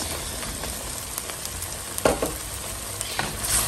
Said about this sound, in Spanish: Después de 10 minutos vamos a agregar los ejotes.